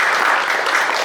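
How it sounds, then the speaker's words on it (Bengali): Audience applause at a theatre festival, a steady, dense clapping from a crowd that fills the room evenly throughout. "একটু হাততালি।"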